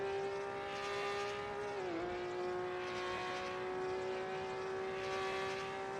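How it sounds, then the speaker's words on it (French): A 1970s race car's flat-six engine holds a steady, droning high-revving note, briefly dipping in pitch before climbing back, loud and close with no voices. "la reprise du flat 6 qui parle de lui-même"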